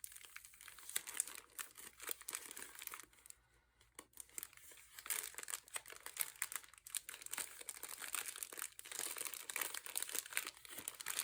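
Paper envelope packaging for washi tape being carefully opened, with close crinkling, crumpling and tearing rustles running nearly throughout, a brief quiet pause early on, no voices.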